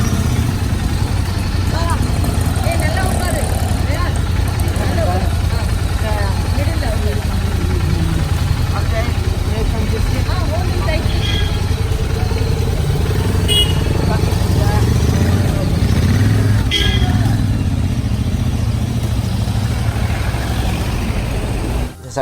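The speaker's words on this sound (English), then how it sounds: "It is called the Royal Enfield Interceptor. I'm on a bike and I'm gonna ride." A Royal Enfield Interceptor motorcycle being ridden, its steady engine drone and wind roar filling the whole stretch at close range while a voice talks over it.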